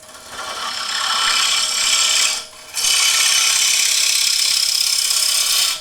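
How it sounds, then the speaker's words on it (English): A wood-turning gouge skims the surface of a wooden table lamp spinning on a lathe, giving a loud, steady hiss of cutting that breaks off for a moment and then resumes. "I'll just skim that surface just very briefly, just with the same gouge."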